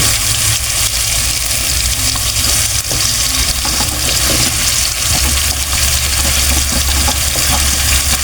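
Sweet potato and okra hit a hot pan for sautéed mixed vegetables with fish bagoong, giving a steady, dense sizzle that runs unbroken throughout with no talking.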